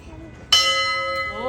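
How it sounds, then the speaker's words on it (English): A fire truck's bell at a fire station rings once with a sharp, loud metallic strike that rings on with a long, sustained tone and a second faint tap, with quiet voices before it. "Okay, it was the bell. That was a bell."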